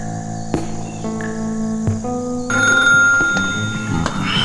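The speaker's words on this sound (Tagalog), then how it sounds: "Telepono." An old-style telephone bell rings in bright, repeated metallic trills over a sustained musical background in a drama scene, clear and close with no speech.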